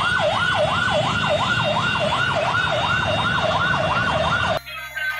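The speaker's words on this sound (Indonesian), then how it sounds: "ini mobil ambulan teman-teman" A toy ambulance siren wails up and down in a fast, repeating electronic cycle, loud and close, then cuts off abruptly near the end.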